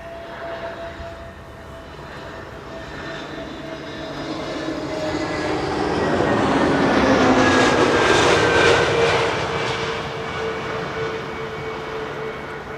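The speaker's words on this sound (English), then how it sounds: "this is KLM Flight 926 arriving from Eden." A KLM airliner, Flight 926, lands on Schiphol's Kaagbaan runway 06: a broad jet roar swells to a loud peak at mid-pass, then fades, with whining engine tones sliding downward through it.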